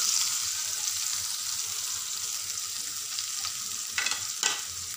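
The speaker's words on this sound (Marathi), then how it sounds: "वाटाणे घालून आपण थोडंसं याला शिजून घेऊया वाटाण्यांना तेलामध्ये" Green peas cook in hot oil for an aloo kachori filling, with a steady, close sizzle and a couple of sharper scraping stirs near the end.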